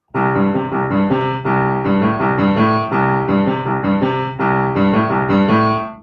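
A piano plays a steady, repeating four-note left-hand bass pattern, loud and close with no voice.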